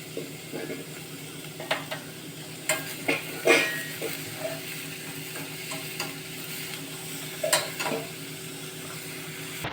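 Vegetable fried rice being stir-fried in a pan: a low, continuous sizzle broken by intermittent scraping and knocking of a spatula against the pan, close by, with no talking.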